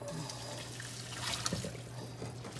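Cold tap water runs steadily into a sink to rinse freshly boiled pho noodles in a home kitchen, a close, even trickle with a low hum beneath and brief voices in the background.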